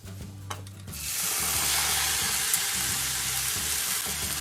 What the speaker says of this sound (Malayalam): ഇനി മീഡിയം ഫ്ലെയിമിൽ തേങ്ങ നന്നായി വറുത്തെടുക്കാം.